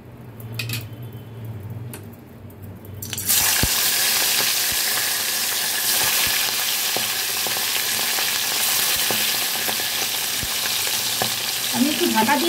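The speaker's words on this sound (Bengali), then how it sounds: "এই তেলের মধ্যে মাছ ভেজে মাছের তেল ঝালটাও করে নেব।" Tengra fish are dropped into hot oil in a pan and fry with a loud, sustained, crackling sizzle that starts abruptly after a few quieter seconds of handling, close and with no talk.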